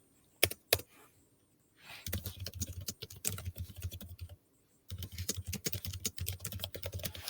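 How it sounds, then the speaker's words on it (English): Rapid clicking of a computer keyboard in two steady stretches of typing, close and soft, with a brief pause between them and a few isolated clicks at the start. "as I'm typing, it's in Georgia 12"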